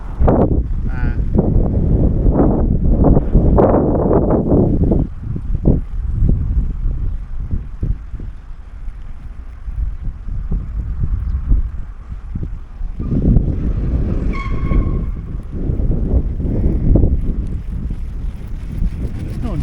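Strong wind blows while fishing outdoors, a loud, continuous rumbling buffeting of the microphone with gusts, and voices talk briefly underneath.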